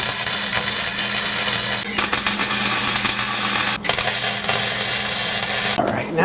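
Tack welding metal on a Jeep Grand Cherokee, a close, continuous harsh crackling buzz with a few sharp breaks and a faint sputter near the end.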